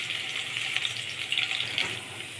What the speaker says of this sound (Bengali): চুলার আঁচ হাইটে রেখে আদা কুচি রসুন কুচি একটু ভাজা ভাজা করে নিব।